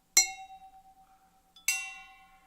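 An empty glass bottle is struck twice with an object, each tap a bright ringing clink that hangs and decays with a sustained tone, the two hits about a second and a half apart in a quiet room.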